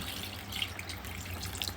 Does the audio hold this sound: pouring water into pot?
yes